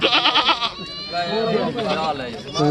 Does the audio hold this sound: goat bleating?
yes